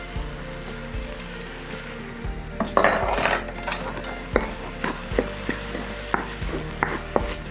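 Masoor dal is stirred in a pot, with a spoon scraping and knocking against the sides in a steady series of close, distinct clinks and no talking.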